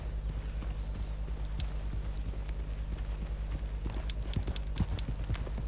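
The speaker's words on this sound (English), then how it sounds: "بەخوا سەوتی قاچی و ئەسپە خۆشە" Horse hooves gallop in Red Dead Redemption 2, a fast, steady clip-clop of thudding beats that runs the whole way through, fairly close and loud, with no talk.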